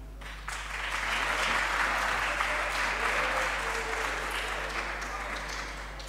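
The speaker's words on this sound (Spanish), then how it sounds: "Pueden aplaudir." An audience in a legislative chamber applauds a youth deputy: steady, moderately loud applause rises and holds for about six seconds over a low, constant electrical hum.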